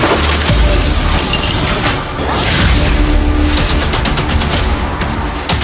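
An explosion picked up by a CCTV system at St Maroun church, 4 km from the blast site: a dense, continuous roar of crashing and rattling, swelling sharply after about two seconds, with no voices.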